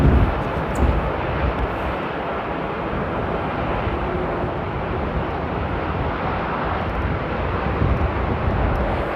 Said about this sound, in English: Yet another heavy thundering down the runway on the other side of the airport from runway 24